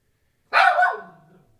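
A single loud dog bark rings out against silence, a sharp yelp that trails off into a brief low growl.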